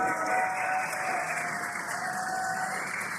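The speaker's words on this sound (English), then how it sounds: "You can hear the crowd here." A crowd cheers during the drogue parachute deployment of the SpaceX Crew-9 Dragon capsule's return, a broad, steady wash of distant cheering and applause with a faint tonal hum beneath.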